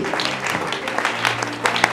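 A congregation at a church gathering applauds together: quick, overlapping claps form a busy patter over a steady low hum, with a few louder hand strikes standing out over a couple of seconds.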